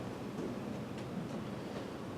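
A train pulls into a station with a steady low rumble and rolling noise at moderate distance, with faint clanks rising above the drone.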